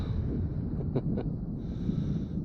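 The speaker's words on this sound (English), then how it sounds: "It is a little windy." Low rumbling wind buffeting the microphone continuously beside mountain fishing ponds in Saltville, southwest Virginia, with a couple of brief faint clicks partway through.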